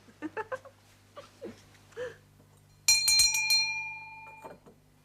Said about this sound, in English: Will you ring the bell for me?